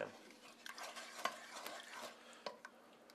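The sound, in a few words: stirring brown bits loose in broth in a pan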